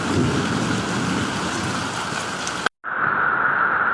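In Shah Alam, Selangor, a hailstorm pours down with rain and thunder, a thick steady roar of falling water that cuts out abruptly for a split second before resuming just as loud and brighter.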